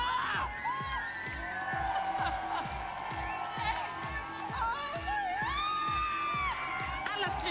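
A crowd screams and cheers at the Melodifestivalen winning moment, with loud whoops and shouting over a steady pounding musical beat, voices rising and falling throughout.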